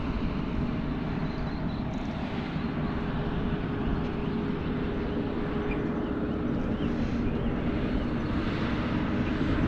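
Apprentice RC airplane flying in strong gusty wind, a steady broadband drone with constant wind rumble across the whole stretch, no voices.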